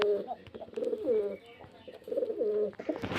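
Pigeons coo close by in repeated soft, throaty phrases at an uneven rhythm, with a brief faint voice near the end.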